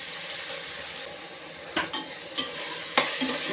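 Ginger garlic paste and herbs sautéing in oil for chicken biryani, a steady sizzle beneath repeated loud spatula scrapes and knocks against the pot.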